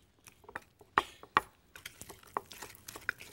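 Lemon zest and a little sugar being stirred into an apple filling, giving faint soft scraping with a few sharp clicks of a utensil against the bowl, quiet and close.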